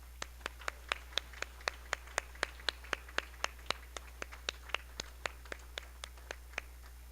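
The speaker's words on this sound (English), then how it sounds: "Let's give one more big, huge round of applause to all the honorees all at one time together" A single person claps in a slow, steady rhythm, about two dozen crisp, close hand claps in an otherwise quiet room at a service awards event, with a low hum underneath.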